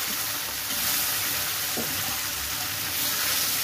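Chickpea greens (chane ka saag) tossed into a hot pan over a lowered flame give a steady, bright sizzling hiss that holds evenly throughout, with no voices.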